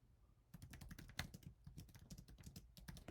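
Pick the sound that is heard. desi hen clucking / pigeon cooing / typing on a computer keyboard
typing on a computer keyboard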